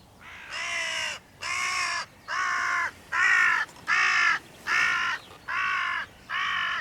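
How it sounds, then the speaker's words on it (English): A hooded crow gives eight harsh, evenly spaced caws, loud and close, each a raspy drawn-out call with short gaps between. "another hooded crow has appeared, and it doesn't sound happy."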